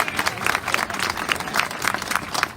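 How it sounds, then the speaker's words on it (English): A crowd at an outdoor rally in Oklahoma City claps and cheers steadily, a dense, continuous wash of applause without pause. "Give her a round of applause"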